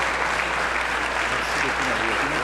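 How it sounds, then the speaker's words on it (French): Audience at a Quebec junior hockey hall of fame gala applauds steadily, a dense even wash of clapping from a large room, constant and moderately loud throughout. "On peut applaudir encore."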